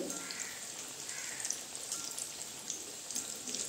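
Pieces of chicken popcorn frying in hot oil make a steady, close, crackling sizzle like light rain, continuous and fairly quiet throughout.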